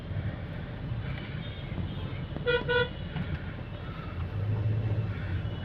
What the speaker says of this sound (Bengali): খুব কম দু একটা গাড়ি হর্ন দিচ্ছে